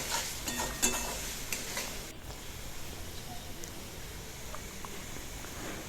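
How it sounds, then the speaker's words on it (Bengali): Turmeric, salt and cloves are stirred and cooked down in hot oil, starting with a clatter of spoon against pan and settling into a steady, close sizzle. "দিয়ে ভালো করে কষাবো যতক্ষণ তেলটা না ছাড়ছে, ততক্ষণ কষাতে থাকবো।"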